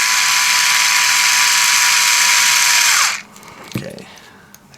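An electric screwdriver whines loudly and steadily while tightening the screws of a Dayan Panshi puzzle cube, running for about three seconds before stopping abruptly, followed by a brief quieter mechanical click.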